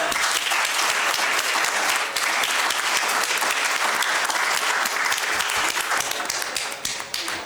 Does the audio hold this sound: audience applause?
yes